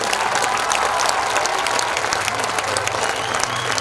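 An audience at a school dance group performance applauds its dance teachers, with loud, dense, sustained clapping throughout and crowd noise mixed in.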